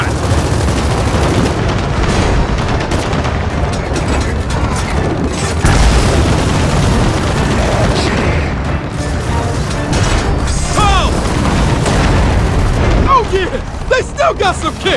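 Bomb blasts and gunfire in Gears of War 4, heavy booms and crashing impacts in a dense, loud battle with a voice shouting over the chaos.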